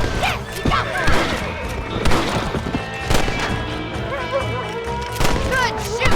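Gunshots crack in Red Dead Redemption Remastered during a fight with coyotes at a farm. Sharp shots ring out at irregular intervals over busy game audio, with horses, barking and a voice mixed in.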